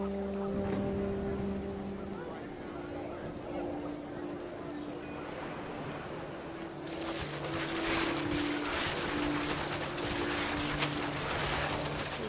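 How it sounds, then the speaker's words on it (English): Heavy rain in the video game What Remains of Edith Finch pours steadily throughout, a dense continuous wash that swells louder in the second half, with a low game drone and faint tonal hums beneath. "The rain came down in buckets then,"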